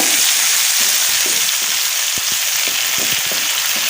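Chopped tomato and peas fry in a pan with a loud, steady, close sizzle and a few faint taps of a utensil beneath it.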